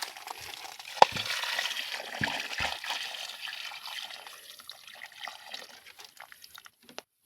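Water poured into the very dry soil of a potted aloe vera plant, giving soft trickling and dripping with a few small splashes and gurgles that gradually thin out to scattered drips.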